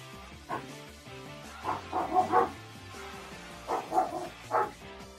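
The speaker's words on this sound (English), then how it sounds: "What's the dog doing? He's barking." A dog barks in short clustered bursts of yips and barks, a group of three quick barks and then a pair a little later, moderately loud over a quiet background.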